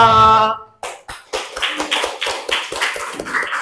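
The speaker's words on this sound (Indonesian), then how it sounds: "tepuk tangan buat kalian semua." A class of students claps together after their teacher's lesson, a burst of sharp, uneven hand claps following a brief sung or spoken note, steady and moderately loud to the end.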